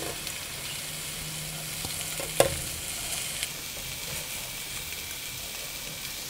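Soaked rice is toasted in a pan, giving a soft continuous sizzle and frying hiss with an occasional clink of a utensil stirring, close and fairly quiet.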